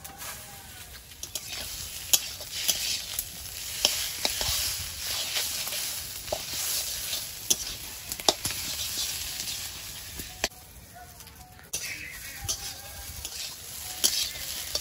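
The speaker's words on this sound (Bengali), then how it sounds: "এবার মাছের ডিমটা দিয়ে আর একটু ভেজে নেব।" Fish roe frying in oil with bitter gourd and potato, a steady crackling sizzle broken by frequent scrapes and clacks of stirring, fairly close and with no talk.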